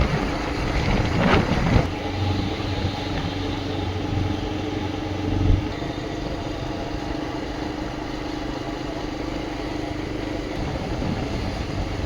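A motorcycle engine idles and runs steadily at close range for several seconds, with a low droning hum and a couple of brief louder bumps early on.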